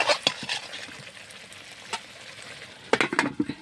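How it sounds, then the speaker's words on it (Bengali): Meat being stir-fried in spice paste, giving a steady close sizzle broken by sharp spatula scrapes and clatters, which bunch together near the end. "সুন্দরভাবে কষিয়ে নিয়ে মশলার মধ্যে মাংসটা ছেড়ে দিই, সুন্দরভাবে ঢেকে ঢেকে কষিয়ে নিই"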